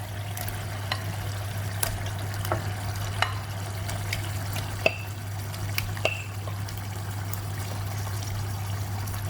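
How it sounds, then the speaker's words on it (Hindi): Chicken liver is added to masala frying in a pan, a steady low sizzle with scattered pops and small clinks of a spoon, close and continuous. "इस तरह कलेजी डाल देंगे।"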